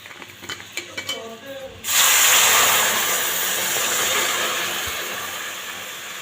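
Water hits jaggery in a large hot wok with a sudden loud hiss that holds steady for several seconds and then slowly fades, after a short stretch of quieter clinking and kitchen noise.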